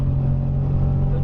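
A Subaru BRZ track car's engine drones under throttle on a racing circuit, a steady loud low-pitched hum heard from inside the car without pause.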